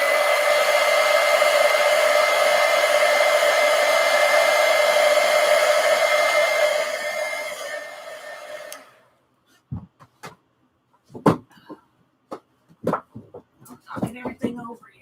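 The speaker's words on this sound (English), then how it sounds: "Let's dry it with a heat gun." Heat gun blowing hot air over a colouring page, a loud steady whirring hiss for about eight seconds that winds down and stops, followed by a person talking.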